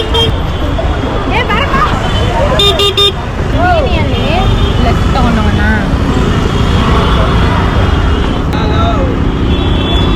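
Car horns honk amid busy traffic at KR Market in Bangalore, with a cluster of sharp toots and another short blast later. Engine rumble and crowd chatter run loudly underneath throughout.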